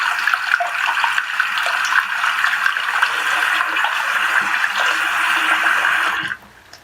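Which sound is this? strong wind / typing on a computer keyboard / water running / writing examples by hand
water running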